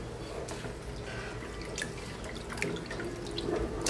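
Tap water runs steadily into a sink while crabs and shrimp are washed, with a few clinks and splashes over the continuous, fairly close flow.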